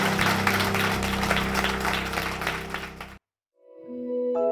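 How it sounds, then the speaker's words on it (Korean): A church congregation applauds during a broadcast service, a dense continuous wash of clapping that cuts off abruptly, followed by silence and then soft sustained musical tones. "영광의 박수를 드리겠습니다."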